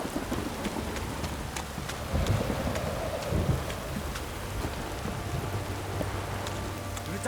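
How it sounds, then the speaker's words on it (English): Steady rain pours in The Witcher III, a constant dense hiss with scattered drop ticks and a low rumble swelling briefly midway, unbroken and without voices. "If it don't stop raining"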